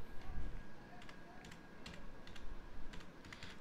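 Quiet, close typing on a computer keyboard as a job application post is written, irregular bursts of soft key clicks over a low background hum.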